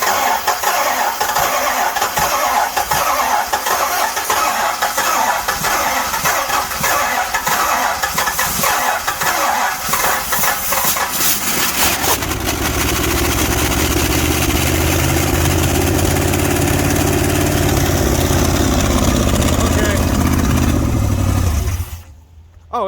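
A Mopar 440 V8 in a motorhome cranks and fires, then runs loud and close with a rough, rumbling idle under a little throttle until it abruptly shuts off near the end.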